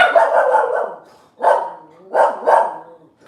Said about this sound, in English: My dogs might start barking because somebody's walking by.